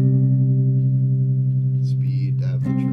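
An electric guitar chord rings out through a modulated echo effect pedal, a sustained wavering tone with echoing repeats that holds steady. Faint pick and string noises sit near the end.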